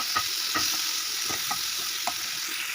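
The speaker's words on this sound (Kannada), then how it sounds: "ಇದನ್ನು ಸಣ್ಣ ಉರಿಯಲ್ಲಿ ಬೇಯಿಸಿ ಚೆನ್ನಾಗಿ ಟೊಮೆಟೊ ಎಲ್ಲ ಚೆನ್ನಾಗಿ ಬೇಯಿಸಿ ನೋಡಿ" Tomatoes softening in a pan on a low flame, with a steady gentle sizzle and a few soft stirring scrapes of a spoon, close up and with no talking.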